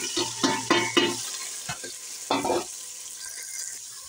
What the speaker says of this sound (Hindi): अब हम इसमें कलेजी भून लेंगे।